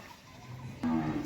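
A Holstein Friesian heifer calf lets out a single short moo, fairly close, over a quiet farm background after a stretch of low ambient noise.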